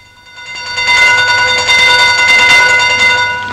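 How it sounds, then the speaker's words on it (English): A train pulls into a railway station platform, its rumble swelling within the first second into a loud, steady roar with sustained whistle-like tones that ease off slightly at the end. "There's your train."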